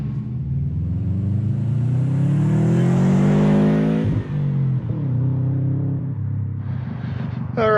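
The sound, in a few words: Subaru WRX driving on highway during test drive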